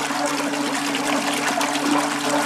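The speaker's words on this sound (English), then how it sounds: "You can see it's got quite a bit of thrust on the propeller." Propeller thruster of an underwater ROV running in a bucket of water, giving a steady, close churning and rushing of agitated water without pause.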